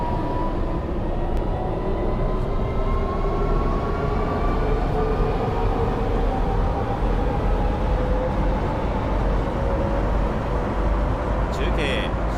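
A train pulls away from a station in the railway driving game Train Crew, its steady rolling rumble and rising motor whine continuous and loud throughout, with a short beep near the end.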